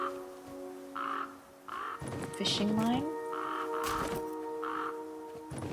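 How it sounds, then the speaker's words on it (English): Crows caw repeatedly in the survival video game The Flame in the Flood, several short harsh calls spread across the clip, while someone speaks briefly. "Go away, bird."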